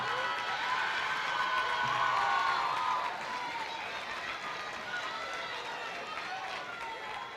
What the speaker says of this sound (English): Let's have a round of applause for the MVC All-Freshman team and our Freshman of the Year